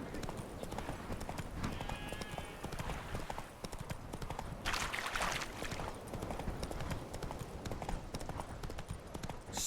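A horse gallops in The Witcher 3, its rapid hoofbeats drumming steadily and close throughout, with a brief whinny midway and a faint voice in the background.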